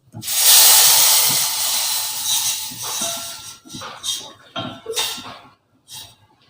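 Milk poured onto hot dry-roasted semolina for payasam sets off a loud steamy hiss that peaks at once, then breaks into shorter, fading bursts of sizzling.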